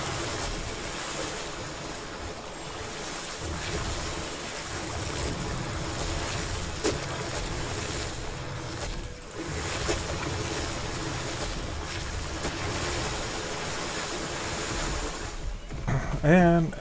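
Dinosaurs wading and swimming across a swamp in a video game, a steady broadband wash of water and surf-like noise running continuously at moderate loudness, with a brief splashy burst near the end.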